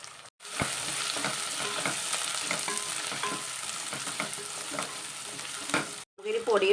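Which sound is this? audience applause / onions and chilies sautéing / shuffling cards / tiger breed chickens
onions and chilies sautéing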